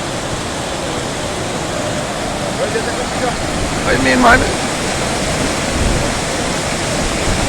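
Floodwater after Hurricane Elsa rushes through a gully full of debris, a loud, steady roar of water throughout, with someone briefly speaking over it.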